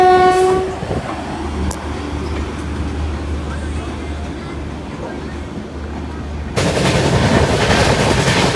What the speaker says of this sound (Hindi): एक नंबर पे WAG9 के साथ अराइवल कर रही है गरीब नवाज एक्सप्रेस, किशनगंज टू अजमेर।